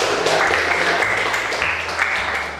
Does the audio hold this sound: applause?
yes